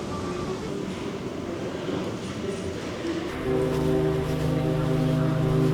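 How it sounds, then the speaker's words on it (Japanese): A deep, sustained ship's horn sounds over windy harbor ambience and steady background rumble in Nagasaki harbor near a shipyard, droning loudly for the last few seconds. "船の汽笛の音が聞こえますね。"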